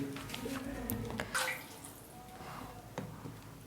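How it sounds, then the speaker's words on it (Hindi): Water poured from a cup into a pan of cooked semolina for halwa, a splashing, gurgling stream that surges loudest near the start, then trickles and fades. "सबसे पहले हम 4 प्यालियाँ पानी की डालेंगे"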